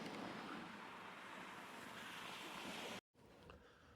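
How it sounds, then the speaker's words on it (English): Wind gusts against the microphone on the coast at Anderby Creek, a loud steady roar mingled with surf that cuts out briefly and returns fainter. "that wind picks up a little bit here"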